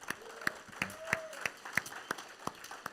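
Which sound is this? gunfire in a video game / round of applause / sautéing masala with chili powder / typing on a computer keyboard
round of applause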